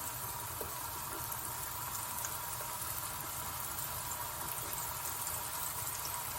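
Polenta arepas frying in a little oil in a pan, a continuous soft sizzle and crackle with faint pops, steady and close, with no voices.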